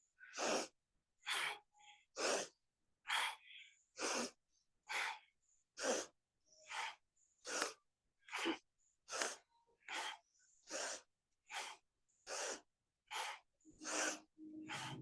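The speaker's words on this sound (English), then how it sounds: "A little faster. Inhale, exhale." Rapid yoga breathing exercise, about twenty sharp, evenly spaced breaths pushed in and out in a steady fast rhythm, close and clear with no talking.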